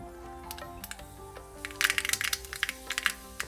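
Half a teaspoon of mustard seeds crackles in one and a half tablespoons of hot coconut oil on a tava for Kerala-style cucumber moru curry. Sharp, irregular pops come in quick bursts over a soft background hum.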